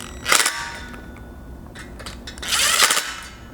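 Hex key turning and tightening crossbar bolts on a roof rack for a 2022 Toyota Tundra, two short bursts of metallic ratcheting clicks separated by a quieter pause.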